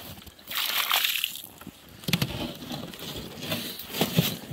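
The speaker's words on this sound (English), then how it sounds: "I'll dump the water out of this one" Water is dumped out of a container outdoors at a shooting range, giving a few sloshing, splashing pours with trickling in between. The sound is fairly close and there is no talk over it.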